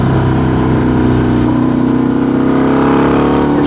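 A bagger motorcycle's engine pulls hard in third gear, a loud, steady close-range drone with rich low harmonics that holds its pitch without any talk.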